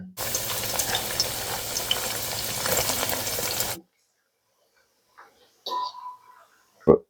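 Garlic frying in hot oil for fish pickle gives a loud, dense, steady sizzle for about three and a half seconds, then cuts off abruptly, leaving a few faint clinks and scrapes.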